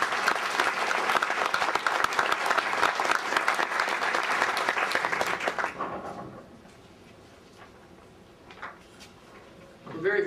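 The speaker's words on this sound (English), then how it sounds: "So I'd like to give those a round of applause for those people" A conference audience applauds the event organizers with a full, dense round of clapping that holds for about six seconds and then dies away into quiet room noise, with a few stray claps and faint sounds afterward.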